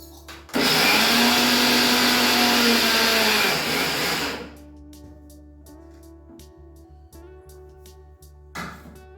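A kitchen mixer grinder whirs loudly as it grinds ragi flour with jaggery. It runs hard for about four seconds, then winds down and stops, leaving quiet clicks and a faint room hum.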